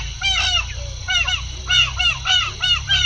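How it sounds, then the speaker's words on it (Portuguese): Wild comb ducks in flight give loud, honking calls in several quick clusters, repeated and fairly close, with no talking. "Os primeiros que vi voando foram dois patos selvagens, mais precisamente dois patos de crista."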